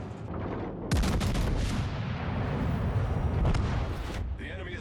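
Battleship main guns fire salvos in a naval combat video game, a dense, loud barrage of booming blasts that starts abruptly and rolls on continuously, with voices talking over the din.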